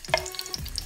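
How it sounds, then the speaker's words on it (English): Coconut oil sizzles and crackles in a hot frying pan at close range with a steady hiss and small pops. It runs steadily under a fairly quiet level, with no voices. "So now we're gonna add some coconut oil to my frying pan."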